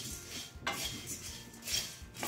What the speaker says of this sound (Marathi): सतत हलवत कुरकुरीत असे भाजून घ्यायचे आहे